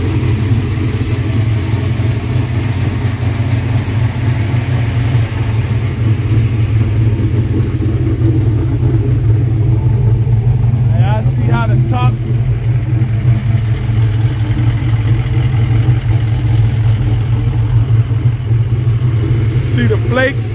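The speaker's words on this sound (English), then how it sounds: "This car is loud" A loud engine of a 1971 convertible runs steadily with a deep, constant rumble throughout, close by, while someone talks over it.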